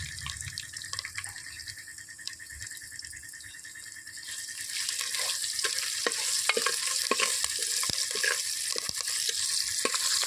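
Fenugreek seeds and garlic tempered in hot oil, a continuous bright sizzle that grows louder midway, with scattered small clicks and pops, close and free of speech.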